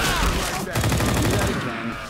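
Rapid gunfire from Left 4 Dead 2 fills the scene with dense, continuous shots. Loud voices talk over it.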